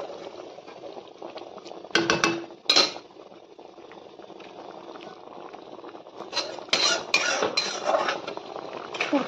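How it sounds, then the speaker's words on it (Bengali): Curry with lentil fritters simmering in a pot, a soft steady bubbling under occasional clinks and scrapes of a utensil against the pan, with two louder clattering bursts near the start and more stirring knocks toward the end. "কিছুক্ষণের জন্য একটু তরকারিটা ফুটতে দিব।"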